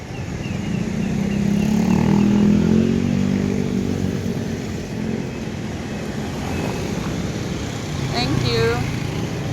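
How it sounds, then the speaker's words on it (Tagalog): Motorcycles pass on a road, their engines swelling to a loud rumble and then receding, while people talk nearby. "Wait lang, Col, may mga motor."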